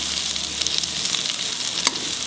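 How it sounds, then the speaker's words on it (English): Chopped onions fry in a pan for dry prawn chutney, making a loud, steady, close-up sizzle with faint stirring crackles throughout and no voices. "Fry this till it becomes translucent."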